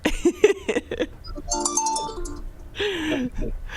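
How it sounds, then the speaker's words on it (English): Mobile phone ringing during an indoor discussion among school administrators, a tonal melodic ringtone repeating in short phrases after a burst of speech. "Your phone's ringing."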